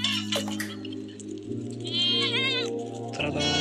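Several goat bleats, close and loud, sound over a steady low hum and rural background noise, with wavering calls rising in the middle of the stretch.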